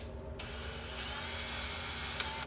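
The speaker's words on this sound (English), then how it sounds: "I'm going with the drill bit, small size" A small drill bit whirs steadily into metal while a line lock is installed on a 1964 Chevelle wagon, a thin high whine starting after a short silence, with a sharp click near the end.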